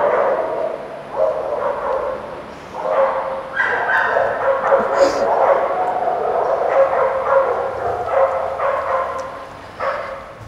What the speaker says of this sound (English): Oh, is that your dog?